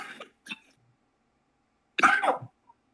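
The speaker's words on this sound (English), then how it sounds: "You kind of fucked your entrance up with your coughing there" Harsh coughing, close and fairly loud: two short bursts at the start, then after a quiet gap a longer, throaty coughing fit with a brief trailing catch.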